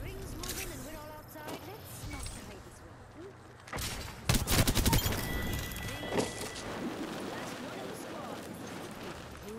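Sniper fire in the Apex Legends battle royale game: a sharp, loud shot cracks midway through a busy stretch of in-game noise and a player talking, with scattered smaller impacts and crashes around it.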